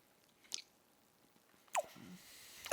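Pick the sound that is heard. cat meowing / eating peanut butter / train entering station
eating peanut butter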